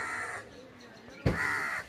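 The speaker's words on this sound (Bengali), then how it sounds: "এদিকে আওয়াজ করতেছে, ওই তো ভাই শালিক পাখি" A common myna calls from a mango tree near a farm, two loud harsh bursts separated by a short lull, with someone talking nearby.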